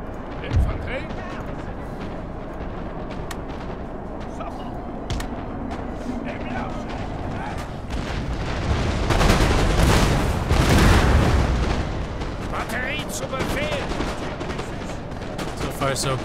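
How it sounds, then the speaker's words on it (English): Cannon fire from artillery units in the video game Napoleon: Total War thumps and booms in the battle mix, with sharp reports and a heavier rumbling stretch midway, mostly under ongoing commentary. "We've got this one unit of artillery just pounding at us."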